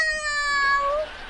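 A woman imitates a cat, giving one loud, drawn-out meow that rises and then slides down before trailing off.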